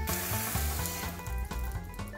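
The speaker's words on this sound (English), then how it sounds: "We better turn off that hosepipe." A garden hosepipe sprays a steady hiss of water in a cartoon garden, running continuously under bouncy background music.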